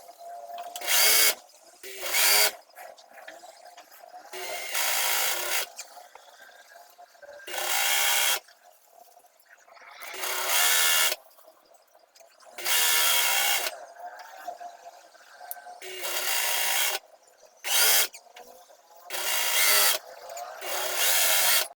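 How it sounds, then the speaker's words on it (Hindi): A sewing machine stitches along the folded waistband of a pair of trousers in repeated loud bursts, each a second or two long, separated by short quiet pauses. "ये देखिए, इस तरह से पूरे नेफे पर सिलाई कर ली है।"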